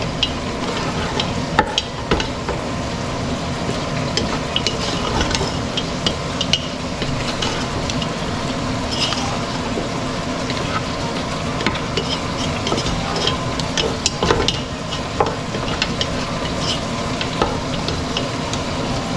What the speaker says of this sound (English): What I like to do with this over here is definitely stir it up.